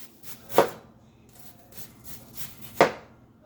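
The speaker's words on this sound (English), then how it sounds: "I'm gonna slice some of the onion first." A knife slices through an onion on a cutting board, with two sharp, distinct cuts a couple of seconds apart and softer, fainter strokes between them, close up and otherwise quiet.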